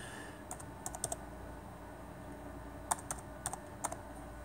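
Someone types a phone number on a computer keyboard, making quiet, sparse key clicks in two short bursts, faint against a soft room hum.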